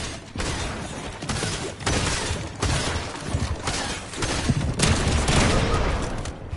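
Gunfire in the Fortnite video game: rapid bursts of loud, crackling shots in clustered volleys separated by short gaps, dense and close, with no talk over them.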